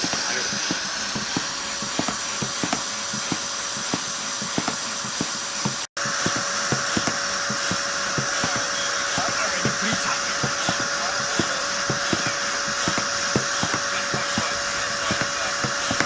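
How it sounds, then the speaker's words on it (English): A pressure cooker on a Min Grill boils peanuts at a riverside campsite, giving a steady, loud high-pitched hiss over continuous rapid rattling and ticking, with a brief dropout partway through. "if you're wondering what that high-pitched noise is, it's the Min Grill's pressure cooker with the boiled peanuts"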